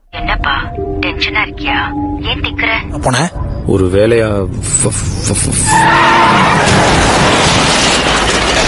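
A film scene in which a car skids toward a motorcyclist coming the other way and strikes him. Voices and music carry through the first half, then a loud, sustained tire squeal and crash noise take over.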